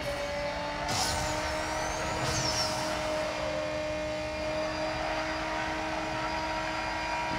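Race car engine in the mobile game NFS No Limits, a steady high-pitched drone with a sharp launch off the line near the start and brief whooshing effects, loud and continuous throughout.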